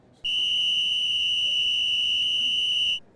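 A single sustained, shrill whistle blast, loud and steady for nearly three seconds before cutting off.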